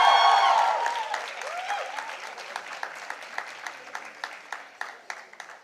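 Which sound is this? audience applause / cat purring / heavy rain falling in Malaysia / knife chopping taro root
audience applause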